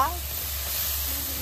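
Small shrimp hitting spices in a hot pan, a steady sizzling hiss that stays even and moderately close after a brief voiced sound at the start.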